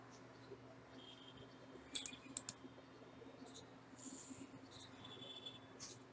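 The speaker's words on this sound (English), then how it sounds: "right click" Computer mouse clicks, a few sharp close taps clustered near the middle and a couple more later, over a steady low electrical hum in a quiet room.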